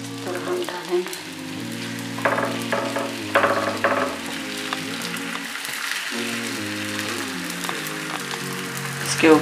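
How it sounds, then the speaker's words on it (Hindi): Oil sizzling on a hot tawa as puris cook, a steady crackling fry that runs beneath a looping background melody, with brief louder spatters now and then. "हम कढ़ाई में नहीं बनाएंगे, हम इसे तवे में बनाएंगे। इस तरह हम इसके ऊपर तेल लगा लेंगे।"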